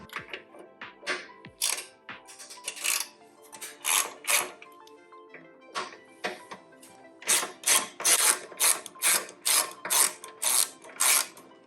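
Screws being worked loose from a cover plate on a 2018 Harley Davidson Road King, a series of close metallic clicks and ratcheting ticks in uneven bursts that quicken into a rapid run near the end.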